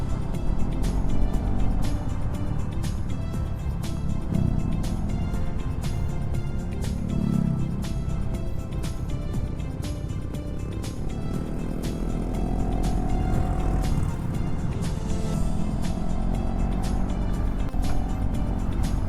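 A motorcycle rides along a winding road toward Ujung Genteng beach, its engine droning steadily and loudly throughout with wind rumble and no pauses.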